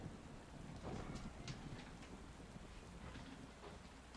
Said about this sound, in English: There's that storm sound.